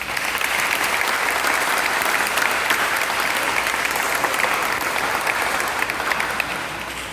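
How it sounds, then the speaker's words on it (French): Warm, sustained applause fills a Catholic church in Saint-Marc, Haiti during a school concert, many hands clapping densely and evenly for several seconds before tapering slightly. "Et nous les applaudissons chaudement."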